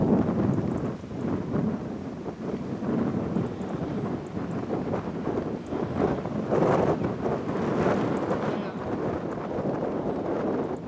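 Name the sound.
strong wind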